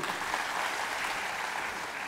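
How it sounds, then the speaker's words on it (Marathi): A crowd at a meeting claps in a steady, dense wash of applause that sounds fairly far off and does not let up. "झाल्या टाळ्या वाजून."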